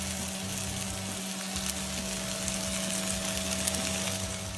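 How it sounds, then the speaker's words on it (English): Burgers frying in a pan, giving a steady close sizzle with a constant low hum underneath, continuous and unbroken throughout. "we let the burgers finish off cooking"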